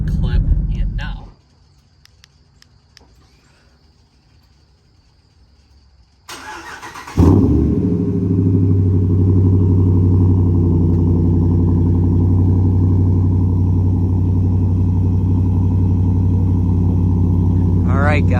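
A Ram 1500 Laramie Sport pickup's V8 cranks and catches, then settles into a loud, deep, steady rumbling idle that continues close by, preceded by a short quiet stretch.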